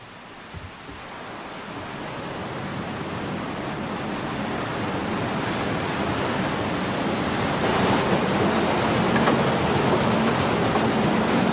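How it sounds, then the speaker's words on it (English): River water runs at Inch sawmills on the River Nore near Kilkenny, a broad continuous rushing hiss that swells slightly in loudness as it goes, steady and without voices. "Inch sawmills on the River Nore near Kilkenny town."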